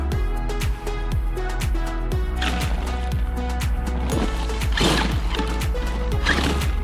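A CJ10 Rock Rocket RC rock crawler edges down rocky ground on light throttle, its geared drivetrain whining and ratcheting continuously at close range, with repeated clicking knocks and gravel crunches.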